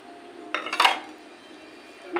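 Spoon clinks against a bowl while chopped chili and cumin are mixed in with the other ingredients, a couple of short close scraping knocks followed by a quieter pause and another tap.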